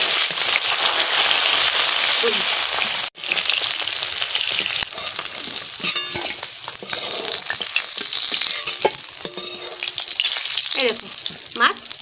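Fish sizzles vigorously in oil in a pan, a dense, loud crackle that runs nearly unbroken, dropping out for an instant and punctuated by scrapes and taps as pieces are turned.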